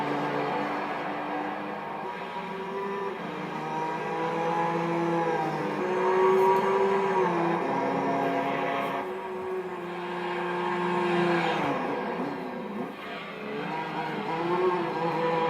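A race car drives in Gran Turismo 3 during a license test, with an engine that rises and falls through the gears over a hairpin section. The motor is loud and steady, with shifting pitch and brief tire squeals in the corners.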